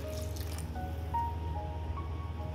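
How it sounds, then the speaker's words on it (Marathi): Coconut milk poured into boiling jaggery water in a pot, a soft trickling, dripping liquid sound over a steady low bubbling hum, close and fairly quiet throughout. "नारळाचं दूध घालूया"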